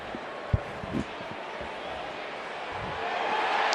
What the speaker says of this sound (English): You can hear the reaction of the crowd.